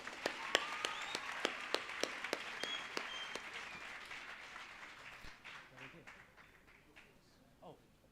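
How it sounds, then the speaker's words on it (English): Audience at a school launch event gives faint, scattered applause with distinct sharp claps in the first few seconds, fading into quieter murmuring and movement as it dies away. "Applause."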